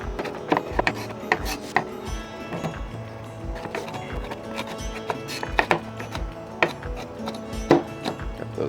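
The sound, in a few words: chopping vegetables by hand for pozole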